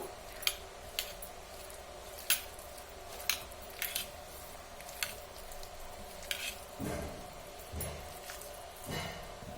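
A spoon stirs vada batter in a bowl, mixed from jackfruit seeds with onion, green chilli, salt, rice flour, gram flour and coriander leaves: soft wet squelches and scattered sharp clicks of spoon against bowl, close and quiet, no talk.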